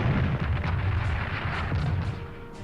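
Artillery bombardment rumbles in the World War II strategy game Strategic Command 1939 Storm over Europe, a dense, loud stream of overlapping booms and low thuds that rolls on continuously and eases slightly near the end.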